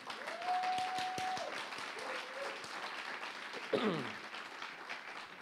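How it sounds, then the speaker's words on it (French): A church congregation applauds steadily in a continuous wash of clapping, with voices rising and shouting over it and a few cheers breaking through. "Et acclame-le encore plus fort."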